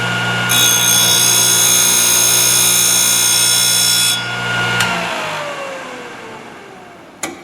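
A Thorvie AV-40 sharpening machine grinds a router bit flute with a loud, steady, high whine for about four seconds, then the motor winds down and spins to a stop, with a brief click near the end.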